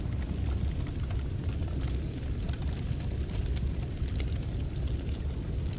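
Fire burning in Noita, a continuous dense crackling roar at steady loudness throughout, no voices.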